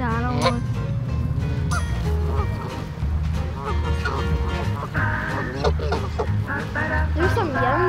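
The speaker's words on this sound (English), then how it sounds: "he's probably one of the guards of the geese" Several geese honk in repeated, overlapping calls at close range, with a steady low hum running underneath throughout.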